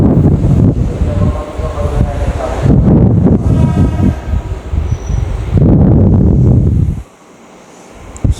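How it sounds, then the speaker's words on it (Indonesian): KRL commuter line train rumbling into a station platform, loud roaring and rushing with wind buffeting, fading to quiet near the end. "kereta tujuan Angke atau Kampung Bandan masuk di jalur 1"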